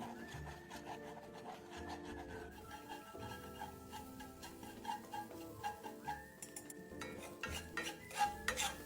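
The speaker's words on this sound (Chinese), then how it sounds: "倒入热货内，用双筷子将鸡蛋拌一拌开" Chopsticks scrape and clatter against a hot wok, stirring two beaten eggs, with a steady rubbing texture and scattered sharper clicks throughout.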